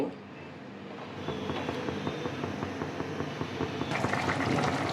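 Kadai chicken gravy heating in a pan after a little water is added, a continuous bubbling hiss with dense popping that grows louder and brighter toward the end, heard alone.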